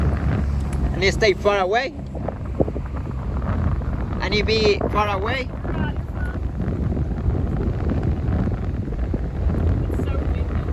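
Strong wind on the ocean during a fishing trip off Mexico buffets the microphone in a steady, roaring rumble throughout, with people talking over it.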